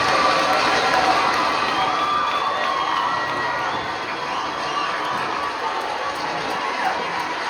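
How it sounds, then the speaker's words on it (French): An audience at a Congolese community celebration in Sherbrooke, held around a World Cup match, claps and cheers for a dignitary in a dense, continuous wash of applause and shouting that holds steady and eases slightly midway. "est-ce qu'on peut applaudir plus que ça?"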